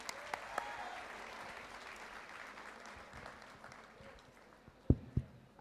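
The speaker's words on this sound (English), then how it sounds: "let's give a big round of applause for Radhesham Das ji" Applause rises from the audience at a national conference of CA students, a soft, sustained clatter of clapping in a large hall that tapers off, with a few sharp bumps and knocks near the end.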